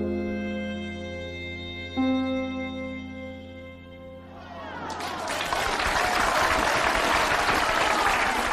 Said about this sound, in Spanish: Una ovación clamorosa subrayó las últimas palabras del señor Tirón.